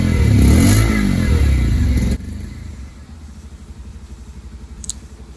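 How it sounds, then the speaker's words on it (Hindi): A 2023 Bajaj Pulsar 125 E20 motorcycle revs loudly with a rising, strained exhaust note, then drops back to a quieter, pulsing idle with a faint clatter. "बाकी आपको एक बार एग्जॉस्ट नोट सुना देता हूँ।"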